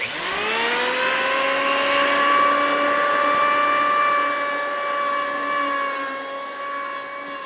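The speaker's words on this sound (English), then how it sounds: "I've got my electric plane set to quite a depth here." An electric hand plane cuts wood for the sole of a 23-foot V-bottom skiff, set to a deep pass. It gives a loud, close, steady motor whine with a rising tone at start-up, running alone throughout.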